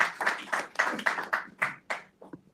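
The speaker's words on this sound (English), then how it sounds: "Let's round of applause for my panel." An audience applauds a panel at a blockchain event, giving a short burst of hand clapping in loose pulses that fades out within a couple of seconds, fairly close.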